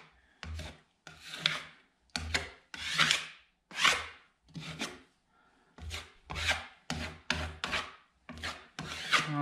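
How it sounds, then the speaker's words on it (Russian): A spatula spreads putty into knots in the interior timber walls of a house built from squared beams, making a rhythmic series of rasping, scraping strokes with short pauses between them. "Также шпаклюем вот эти сучки"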